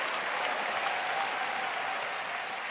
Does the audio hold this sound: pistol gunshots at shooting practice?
no